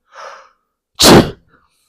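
A single sharp human sneeze, loud and close, preceded by a short audible inhale, then silence.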